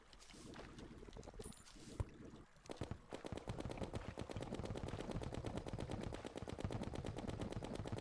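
Rapid automatic gunfire from the Terraria video game in Master Mode, a dense steady stream of shots rattling on for several seconds after a few scattered bursts at the start.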